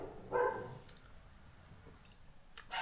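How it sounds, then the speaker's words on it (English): Dogs at home give two short, sharp barks, one near the start and one at the end, separated by quiet room tone. "Sorry, you might hear some barking from my dogs."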